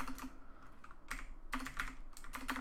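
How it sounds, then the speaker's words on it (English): A new computer keyboard being typed on in short bursts of quick clicky keystrokes with brief pauses between, fairly quiet and close. "I can't type on this keyboard. I got a new keyboard."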